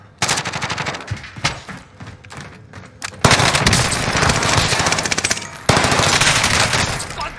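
Rapid automatic gunfire in a video game, loud and close, with sustained bursts of machine-gun fire that stop briefly, then resume more intensely.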